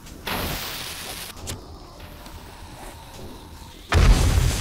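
Pulse grenades go off in the 7 Days to Die video game, with a sharp burst near the start, a faint crack in the middle, then a loud booming explosion near the end over a low background rumble.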